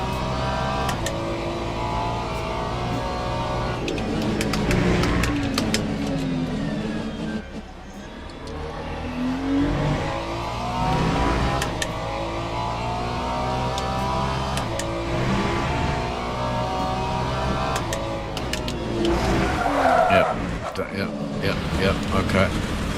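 A Ferrari GT3 race car engine in a racing game revs and shifts continuously, with rising and falling pitch sweeps and occasional tire squeal, while someone talks over it.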